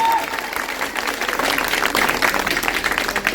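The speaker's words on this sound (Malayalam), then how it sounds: "ഇവരെ ഞെട്ടിക്കുന്ന ഒരു കയ്യടി നമുക്ക് കൊടുക്കാം." An audience at a wedding sangeet night bursts into loud, dense applause, a continuous wash of many hands clapping close by that holds steady to the end.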